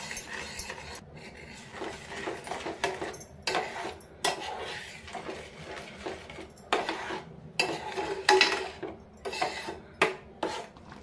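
A spoon stirs tomato sauce ingredients, including sugar, in a pot for an oil-free tomato sauce: repeated metallic scrapes and clinks come in uneven bursts, close and fairly loud, with short pauses between strokes.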